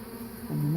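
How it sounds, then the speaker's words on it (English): Bees buzzing inside an open-air pollen feeder, a steady close drone that rises and shifts pitch as the insects roll around and stir the pollen. "they roll around in the pollen and buzz around and stir it up"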